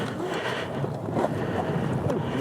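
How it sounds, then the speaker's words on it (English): Strong Mojave Desert wind rushes and rumbles against the microphone in a dense, continuous roar, close and loud, with faint voices buried beneath. "the wind is incredible out here"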